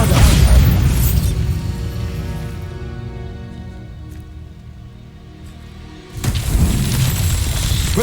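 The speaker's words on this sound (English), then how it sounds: "Bombarda!" A Bombarda blasting spell detonates in Hogwarts Legacy, a loud booming burst that swells and rumbles, fades into a ringing decay, then a second heavy blast erupts near the end.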